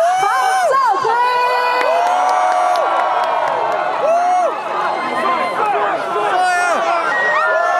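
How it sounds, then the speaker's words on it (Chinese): A large crowd cheers, whoops and shouts continuously at a concert in a baseball stadium, loud and dense throughout with excited voices rising above the roar. "接下来借用大家最热情的欢呼"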